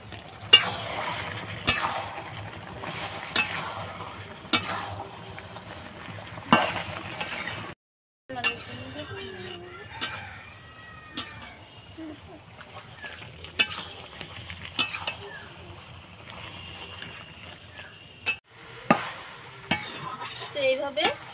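Elephant apple pickle with vinegar is stirred in a pan, with repeated scraping strokes of the spoon over a faint sizzle, fairly close and quiet, plus a few light clinks.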